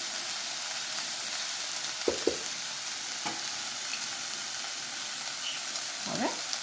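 Hakka noodles with soy sauce being stirred in a hot pan: a steady, close sizzle runs throughout, and a few brief scraping knocks of the utensil come through near the middle and end.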